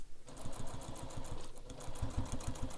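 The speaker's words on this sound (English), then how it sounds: "we're stitching through all that bulk, all the layers" A sewing machine topstitches across a bulky backpack seam through many thick fabric layers, making a quick run of rhythmic needle thumps that pauses briefly and then resumes, close and fairly quiet.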